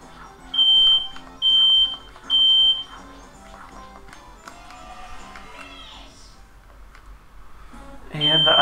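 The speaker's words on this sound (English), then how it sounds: "And the fire alarm is going off." A smoke alarm in a room sounds three loud, shrill beeps at a steady rhythm, then falls quiet under softer video game music and background voices before a final chirp at the end.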